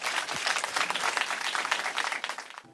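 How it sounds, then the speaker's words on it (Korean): Audience applause at a live radio concert broadcast, steady dense clapping filling the room from start to finish before tapering off at the end. "박수로 청해 듣겠습니다."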